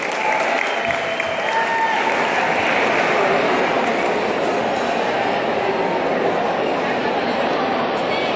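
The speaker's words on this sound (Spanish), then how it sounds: "Así que aplauso para el coro también." Audience applause for a student choir at an Afro-Panamanian customs and dance event, a dense, steady wash of clapping with crowd noise that holds loud and even throughout.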